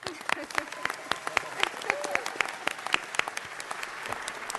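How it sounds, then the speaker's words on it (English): An audience at a city council meeting claps for a council vice chair: a dense patter of many hands, moderately close and steady throughout, with no talk over it. "Let's give Chrissy a round of applause."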